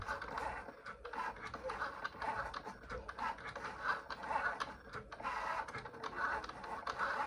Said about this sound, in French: Et là, la Cricut, maintenant, on va faire la découpe.